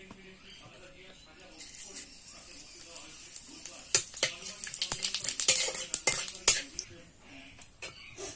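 Bay leaf and cumin seeds sizzling in hot oil for tempering, a crackling spatter with clinks of a utensil against the pan that grows busier midway, close and fairly loud.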